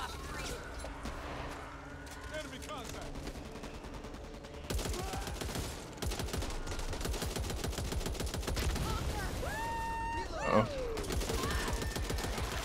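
Rapid automatic gunfire from the zombie shooter video game Back 4 Blood rattles almost continuously in dense bursts, with occasional louder cracks over game effects and music.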